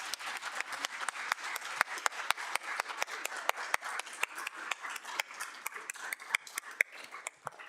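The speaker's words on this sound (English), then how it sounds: "let's give all of our candidates a big round of applause." A student debate audience applauds its candidates, steady, fairly close clapping that rings out sharply and continues evenly for several seconds.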